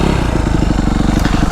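A Suzuki RM-Z 250 motocross motorcycle on an enduro ride on Réunion, its engine close and loud with a rapid, rhythmic pulsing that continues throughout.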